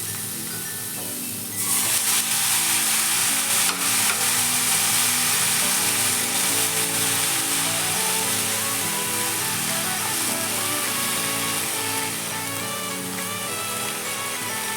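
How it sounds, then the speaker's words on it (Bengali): Drumstick flowers hit hot oil and crackle into a loud, continuous sizzle, with faint scraping of stirring in the pan throughout. "নাড়াচাড়া করে ভাজা ভাজা করব"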